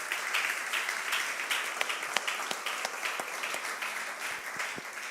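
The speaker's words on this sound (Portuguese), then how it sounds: "Você pode aplaudir a Jesus?" Church congregation applauding, a steady dense wash of clapping with scattered sharper claps, moderately distant.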